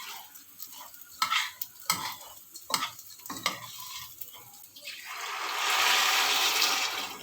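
Rice being stirred in a cooking pot with fat, salt and black pepper before water is added: a run of scraping, clattering strokes with gentle sizzling, then a steadier hiss of frying toward the end.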